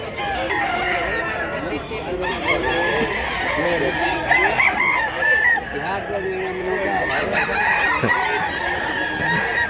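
A rooster crows over a busy backdrop of clucking fowl and people talking at a rooster market in Mantalungon, Cebu, with repeated calls rising through the clip.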